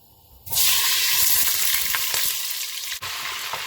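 Butter dropped into hot oil in a saucepan bursts into a loud sizzle and keeps frying steadily nearby, with a few soft clicks and a brief dip near the end, no voices.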